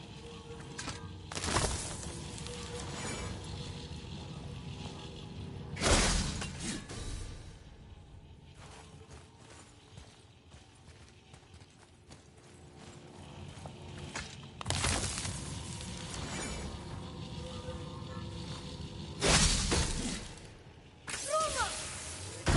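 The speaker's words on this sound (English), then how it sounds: "I will never get tired of shattering things with this." Objects shattering in God of War (2018), several loud bursts of breaking spaced a few seconds apart, with quieter footsteps and movement between them.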